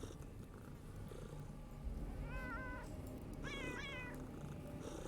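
Kittens meow in the video game Underrail: two short bursts of high, wavering mews over a steady low ambient hum, each lasting under a second with a brief pause between them.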